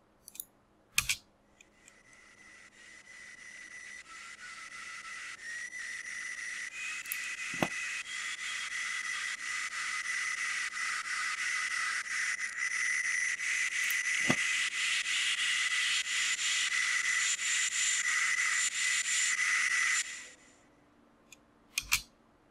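An uplifter riser effect synthesized in Serum builds steadily for about twenty seconds as a bright, hissing sweep that grows louder, then cuts off abruptly. A few sharp clicks sit at the start and end, with no talk.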